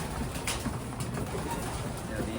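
Pet birds in their enclosure give soft, low cooing, faint and partly buried under steady broadband noise from the surroundings.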